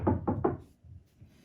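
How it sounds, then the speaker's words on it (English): Three sharp knocks on a door in quick succession, close and loud, followed by a quiet pause with faint low rumble. "I knocked on the door."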